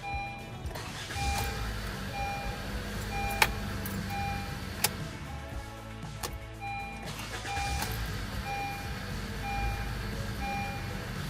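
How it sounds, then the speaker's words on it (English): A car engine cranks and runs after a starter repair, making a steady rumble with a faint repeating electronic chime and a few sharp clicks over about eleven seconds, heard close with no one talking. "Okay, now let's test the starter"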